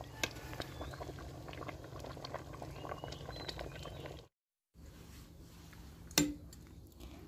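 Bamboo shoot curry with mushrooms bubbling in a pot, a steady soft burbling and patter that runs close and fairly quiet, briefly cut off near the middle, with a sharp clink toward the end.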